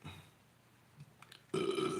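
A single loud burp rings out close to a microphone in the last half second, after a quiet stretch with faint room noise.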